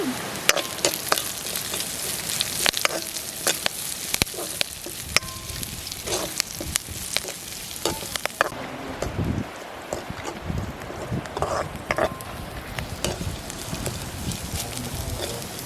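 Curry leaves fry in hot oil with a steady, crackling sizzle full of sharp pops, while a spoon stirs and scrapes the pan now and then, close and loud.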